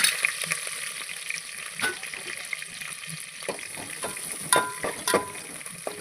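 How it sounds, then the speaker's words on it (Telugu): Green chillies and onions fry in a pan for khichdi, a bright continuous sizzle close up with scattered pops and stirring clicks throughout. "ఆల్రెడీ పచ్చిమిర్చి ఆనియన్స్ వేసుకుందాం."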